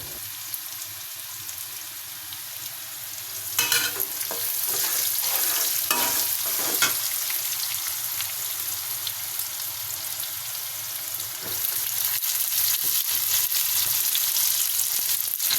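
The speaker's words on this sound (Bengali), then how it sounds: "পেঁয়াজ রসুন মরিচ কুচি করে কেটে নিয়ে তেলের উপরে দিয়ে দিচ্ছি কড়াইয়ের উপর" Chopped onion, garlic and chili fry in hot oil in a wok, giving a steady close sizzle that thickens partway through, with occasional stirring scrapes and no talking.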